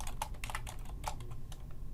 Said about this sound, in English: I've got to type in my language here.